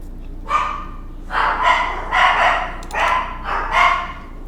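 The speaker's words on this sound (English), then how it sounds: "what are you barking at? We're house sitting, so the dogs are going crazy" Several dogs in a house bark repeatedly at moderate distance, four or five rough bow-wow bursts spaced roughly half a second to a second apart, with no speech over them.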